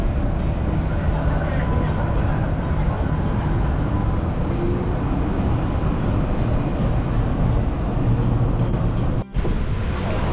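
Steady rumble of a Melbourne city tram in the Free Tram Zone heard from inside while riding toward Queen Victoria Market, a continuous rolling drone with faint background voices.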